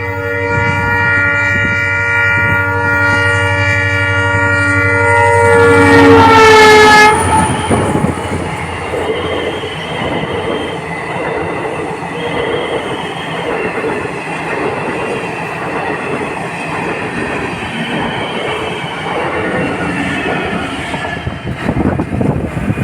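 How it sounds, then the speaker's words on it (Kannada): A train on a speed trial run along the Hubballi–Yelburga–Kushtagi line sounds a long, loud horn blast, then thunders past nearby with rumbling, clattering wheels that continue for many seconds. "ರೈಲು ಗಾಡಿಯನ್ನ ಸ್ಪೀಡ್ ಆಗಿ ಹೊಡಿಸಿ ಪ್ರಯೋಗ ಅಂತಿಮಗೊಳಿಸಿದ್ರು"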